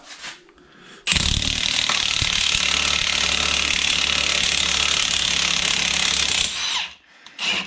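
An impact wrench hammers loudly and continuously for several seconds, driving a puller to remove differential carrier bearings, with a short burst at the start and another brief whir at the end.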